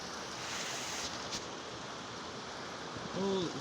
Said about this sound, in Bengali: দেখুন কি সুন্দর বৃষ্টি নামছে।